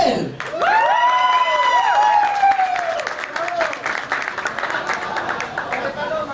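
A studio audience at a televised celebrity impersonation talent show semifinal breaks into loud, sustained applause and cheering, with whoops and whistles rising over the clapping for several seconds before it gradually thins.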